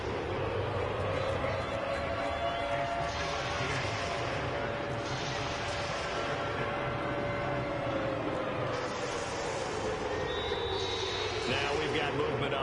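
A loud home stadium crowd in a Madden football game, a steady roaring wash of cheering and noise throughout, with commentators talking over it.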